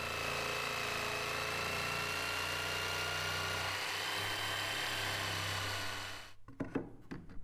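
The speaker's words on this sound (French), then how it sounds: "La manière la plus facile pour le faire, c'est d'utiliser une scie sauteuse" A jigsaw cutting a wooden wall panel, a loud, steady buzzing drone running for about six seconds before stopping abruptly, followed by a few light knocks and handling sounds, alone.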